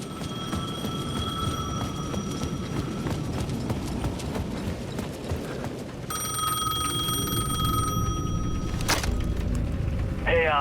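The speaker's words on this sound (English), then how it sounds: "payphone at the edge of the plaza was ringing again." A payphone rings in a plaza in the video game Alan Wake 2, with repeated electronic bell tones at moderate level over a steady background of footsteps and ambient game noise.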